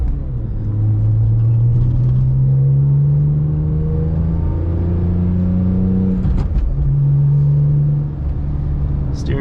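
A BMW E46 M3 drives along with its engine and exhaust droning loud and close, the pitch climbing steadily under acceleration, then briefly breaking off for a gear change before pulling again.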